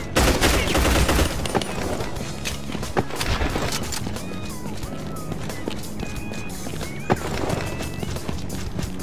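Dense enemy gunfire in the video game Hazard Ops rattles through a loud, busy game mix, with rapid shots and impacts under a constant wash of background noise and occasional sharp cracks.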